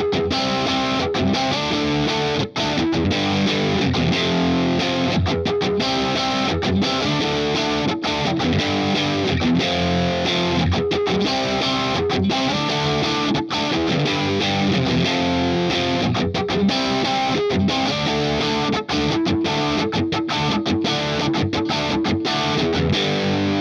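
Distorted electric guitar plays the chorus of a song, a steady, loud, dense strummed riff running continuously with no talking over it.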